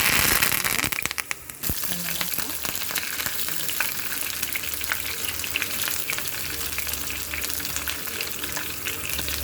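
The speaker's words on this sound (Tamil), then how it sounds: "எண்ணெயில் வெடிக்குது பார்த்திங்களா கடுகு உளுத்தம்பருப்பு கடலப்பருப்பு" Mustard seeds, urad dal and chana dal splutter and pop in hot oil, a dense crackling sizzle with sharp little bursts, steady and close.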